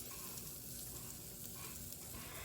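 Keto waffle batter with mozzarella cooks in a waffle maker, giving a soft, steady sizzle and faint crackle, quiet and close with no talking.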